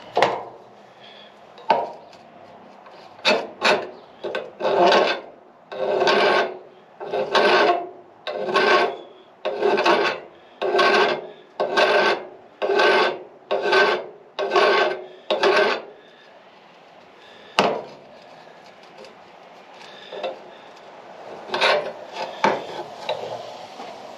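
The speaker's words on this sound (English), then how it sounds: "I am going to file it this time" A metal file rasping the cut end of a steel brake line on a 1961 Unibody: about a dozen steady, evenly paced strokes close to the mic, with a few scattered scrapes before and after.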